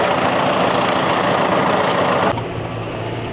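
A John Deere tractor engine rumbles loud and steady while driving slowly on a bumpy road, a broadband drone that drops to a lower, quieter hum near the end.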